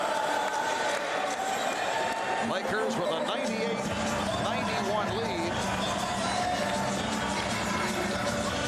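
A large arena crowd at Staples Center murmurs and shuffles during a late timeout in Game 1 of the 2002 NBA Finals, Nets versus Lakers, a dense, steady roar of many voices beneath an announcer's play-by-play commentary.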